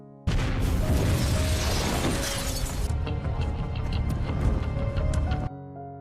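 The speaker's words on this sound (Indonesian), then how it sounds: "Ledakan dahsyat mengguncang malam, rumah John terbakar, puing-puing beterbangan" A sudden loud grenade launcher explosion at night bursts in as a house blows up, followed by a rumbling roar with crackling and clattering debris that fades after several seconds.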